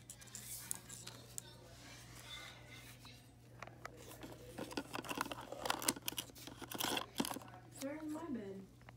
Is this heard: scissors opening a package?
yes